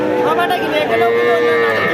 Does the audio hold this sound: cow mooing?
yes